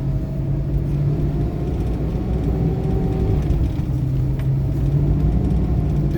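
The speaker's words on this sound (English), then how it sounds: "Engine sounds good." A Ford F350 pickup truck's engine drones low and steady from inside the cab while driving on a rainy day over bumpy roads, a continuous rumble with road noise and no talk.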